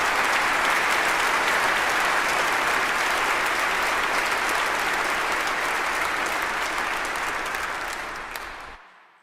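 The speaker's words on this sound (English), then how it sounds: "Let's give them a round of applause." Sustained, dense clapping from a large audience at a 2022 university honors convocation, loud and even throughout before tapering off and stopping near the end.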